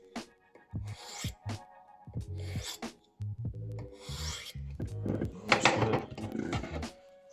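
A knife edge is drawn along a 1300 grit ceramic rod in a series of close, quiet rasping strokes, irregular in rhythm, each a short scraping rub with brief pauses between.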